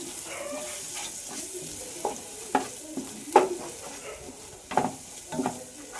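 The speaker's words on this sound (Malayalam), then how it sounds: "കുരുമുളക് പൊടി അപ്പം നമ്മളൊന്ന് ഇളക്കി കൊടുക്കുവാണ്." Chicken in a cooker sizzles while being stirred with pepper powder, with a low frying hiss broken by several distinct spoon scrapes and knocks at irregular intervals.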